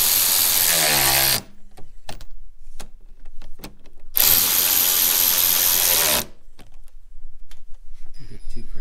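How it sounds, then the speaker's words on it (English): A power tool runs bolts on a Nissan Altima headlamp assembly, two loud sustained whirring bursts with scattered clicks and short handling noises between them, close by. "Now we can get these 6 bolts tightened up."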